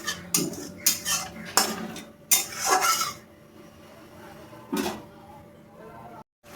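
Metal spoon scraping and clinking against a pot while egg curry is stirred, a few sharp irregular bursts of clatter in the first seconds, then quieter scraping with one more clink near the end.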